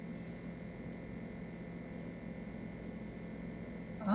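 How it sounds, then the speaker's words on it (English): A pot of sambar with tamarind and lentils simmers in a soft, steady bubbling hiss, quiet and unbroken, with a brief louder stir or clatter at the very end. "after it starts simmering"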